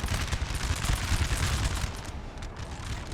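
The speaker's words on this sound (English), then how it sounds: "Ah, he's shooting behind me." Dense, continuous musket volleys crackle and pop from battle in Napoleon Total War, a steady rolling barrage of overlapping shots at moderate distance with no pause.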